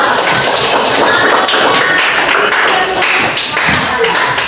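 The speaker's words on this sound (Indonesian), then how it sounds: "Tepuk tangan dulu untuk kelompok 1 sama kelompok 2" Participants in an on-the-job teaching training session applaud two groups, with close, loud, busy clapping that goes on steadily throughout.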